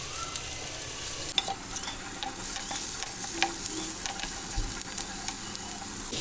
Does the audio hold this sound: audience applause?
no